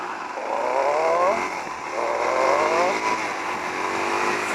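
A Suzuki DRZ400SM supermoto motorcycle accelerates hard on a road, its engine note climbing, dropping at the shift into third gear, then rising again. The revving is loud and close over constant wind roar.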